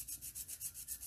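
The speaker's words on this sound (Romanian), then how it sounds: "să piliți pe dedesubt până când laterala ajunge la nivel cu vârful" A nail file rasps back and forth underneath a fingernail, a close, quiet series of about eight quick, even scraping strokes.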